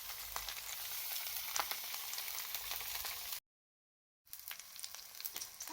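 Salmon frying in oil in a pan over medium heat, a steady close crackling sizzle that cuts out briefly to silence, then resumes with lighter spitting and popping.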